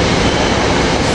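A Chestnut Hill East commuter train arriving on track two at 30th Street Station during rush hour, a loud, steady, broadband rumble and roar of rail cars up close.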